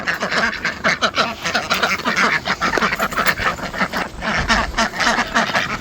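A flock of ducks and other fowl spilling out of a backyard coop, quacking loudly and continuously over one another, close by and busy throughout.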